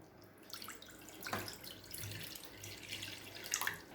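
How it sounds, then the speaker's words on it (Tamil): Water pouring into a kadai, a steady close splashing trickle that runs the whole time and grows a little louder near the end. "கடாயில் தேவையான அளவு தண்ணி சேர்த்துக்கலாங்க."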